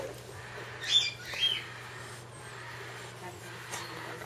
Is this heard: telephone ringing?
no